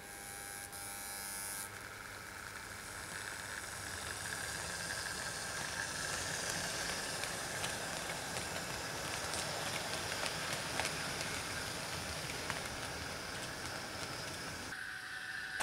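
A model LMS 2P locomotive, a 1928 light passenger engine type, sets off and runs steadily during an autumn goods session, giving a constant whirring motor hum with faint rail clicks at an even level throughout.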